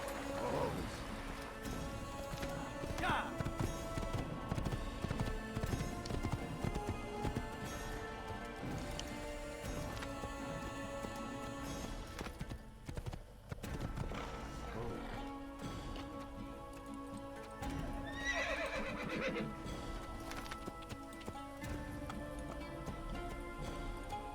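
Hooves clip-clop in a fast, steady galloping rhythm over the Assassin's Creed game soundtrack with occasional voices and rustling, continuous throughout.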